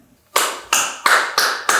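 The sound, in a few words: people applauding each other in celebration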